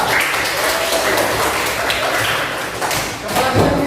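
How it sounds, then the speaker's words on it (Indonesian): A classroom of students claps together in a dense, steady patter of overlapping hand claps, loud and close throughout, with a few heavier thuds mixed in. "Ya, bagus. Tepuk tangan."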